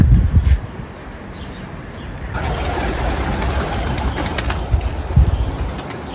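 Pigeons coo low and steadily while a rushing, fluttering wash of wings and outdoor noise carries on throughout.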